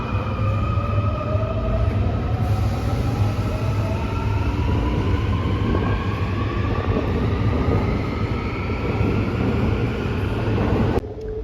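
Subway train in a Seoul metro station rolling through with a loud, continuous rumble and rising whine as it gathers speed, sustained for over ten seconds before cutting off abruptly.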